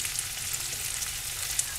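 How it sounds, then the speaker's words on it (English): Sweet potatoes fry in hot butter and avocado oil in a pan, giving a faint, steady sizzle that carries on evenly without a break. "then we will add our sweet potato and cook them until tender"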